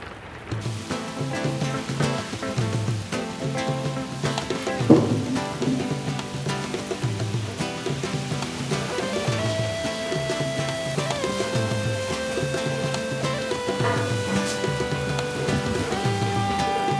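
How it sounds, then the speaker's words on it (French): Steady rain patters and hisses across a surface, blending with music playing underneath, continuous and fairly close throughout. "Adomie, tu ne vas pas sortir sous cette pluie-là."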